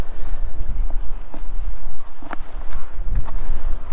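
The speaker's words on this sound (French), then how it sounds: "Un peu de vent aujourd'hui aussi" Steady wind rumbling and buffeting across the microphone outdoors while feeder fishing, with occasional knocks and splashes from a boat on the water.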